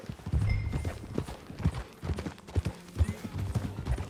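Horse hooves clip-clop steadily at a walking pace in Red Dead Redemption 2, over a busy background of low rumble and ambient noise.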